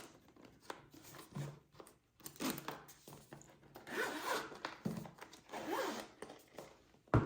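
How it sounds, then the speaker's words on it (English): The zipper of a PS5 DualSense Edge controller case is pulled open in several long rasping strokes, close up and fairly quiet, with brief pauses between pulls. "It's 2 zippers."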